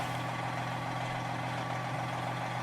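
Steady, droning truck engine with a low hum while a trailer is backed into a receiving dock, holding an even idle-like rumble from start to finish with no speech.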